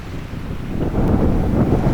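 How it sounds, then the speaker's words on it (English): Strong gusts batter the microphone on a hill walk at Sron Uladail, a loud, rough, low roar that builds partway through and stays heavy, with no voices. "it's just really blowy"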